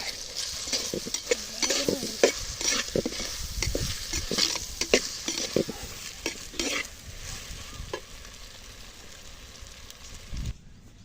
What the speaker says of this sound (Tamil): நம்ம கட் பண்ணி வச்சுருக்கிற இந்த முட்டையை வந்து இப்போ நம்ம இதை சேர்த்துக்கலாம் நல்லா கிண்டு கிண்டுட்டு